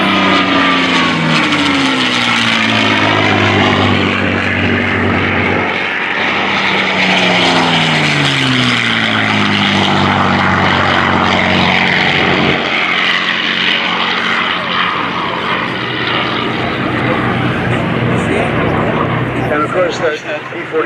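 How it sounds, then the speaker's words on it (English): Several P-51 Mustang WWII fighter planes with propeller engines run loud and steady at an airport during a World War II weekend event, their droning pitch sliding downward as the engines wind down over about twenty seconds. "Let's listen to the Mustangs as they die down."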